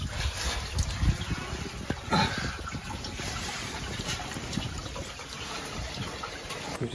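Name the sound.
water trickling while crawling through a tight space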